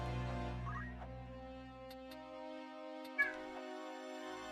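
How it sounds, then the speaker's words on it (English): A cat meows a couple of times indoors, a short call early on and a sharper one near the end, heard over steady background game music. "What are you meowing about, dude?"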